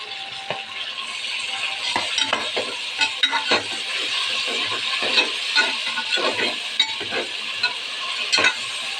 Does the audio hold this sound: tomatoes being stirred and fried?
yes